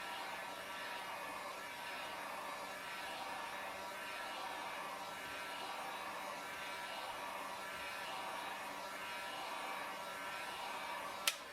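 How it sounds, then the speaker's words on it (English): A heat gun blows hot air steadily over heat transfer vinyl, a constant faint whooshing hiss with no talk. A small click comes right at the end. "I'm not seeing any more movement of any sort other than the heat gun blowing it"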